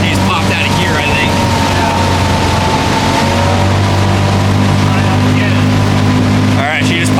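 The outboard motor on a 1967 Sears boat drones steadily at speed over rushing water and wind, loud and continuous throughout.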